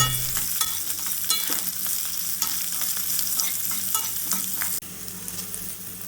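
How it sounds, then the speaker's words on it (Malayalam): Steady, close sizzling of shallots and spices frying in a pan, with occasional stirring scrapes and clicks, no voices. "ഇതെല്ലാം കൂടി ഇട്ട് നമുക്കൊന്ന് നന്നായിട്ട് വറുത്തെടുക്കാം"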